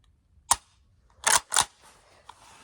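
Trigger of a Savage Stevens model 320 shotgun with a heavy, long-travel pull, dry-fired several times: one sharp click, then two louder mechanical snaps close together and a faint fourth tick, all near and alone.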